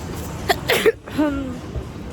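A person who is sick sneezes, a sharp burst followed by a brief vocal catch and throat sound, close and clear in a quiet indoor setting.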